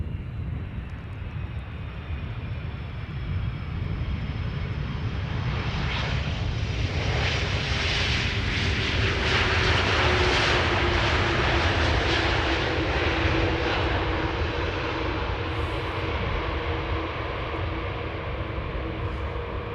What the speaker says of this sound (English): KLM Flight 767 and A330-200 arriving from Boner